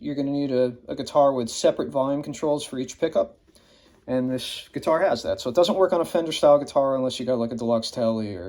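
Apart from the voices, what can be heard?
None of the usual background noises is heard.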